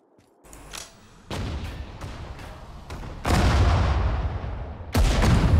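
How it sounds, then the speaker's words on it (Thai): Artillery fire in the Sudden Strike 4 desert war game, a series of loud booming shell blasts in irregular sequence, each hit followed by a rumbling decay, growing heavier toward the end. "Artillery fire"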